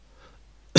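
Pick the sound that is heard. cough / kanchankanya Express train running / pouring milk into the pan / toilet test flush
cough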